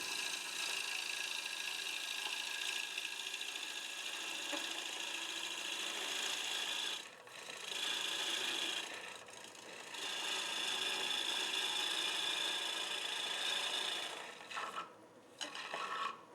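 A wood-turning tool cuts a spinning bowl blank on a lathe, making a steady, hissing rasp that runs almost without a break, with a few short pauses as the tool lifts off the wood.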